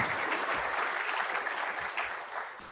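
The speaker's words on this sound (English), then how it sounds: "A round of applause." An awards ceremony audience breaks into a full round of applause, with thick, continuous clapping that slowly thins and fades toward the end.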